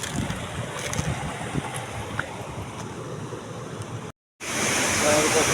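The waterfall at Bibit Falls roars as a steady, broadband rush of falling water, loud and close, with a brief dropout to silence near the end before the roar returns.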